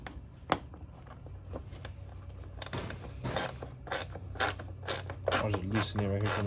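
A bolt being loosened at the back of a Yamaha Raptor 660 quad, with a series of quiet ratcheting clicks and metallic creaks in an irregular rhythm, close by and faint.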